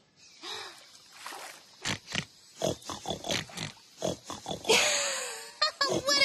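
A cartoon space pig oinking and grunting in a run of short, close, lively snorts and squeals, with a few breathy gasps mixed in, loud and unaccompanied by speech.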